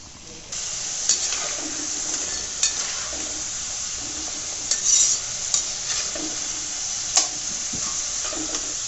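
Potato and egg french fries frying in hot oil give a steady, even sizzle, with occasional light clicks and knocks from stirring scattered through it.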